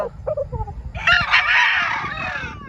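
A gamefowl rooster on a game farm gives a few short clucks, then a loud, drawn-out crow close by.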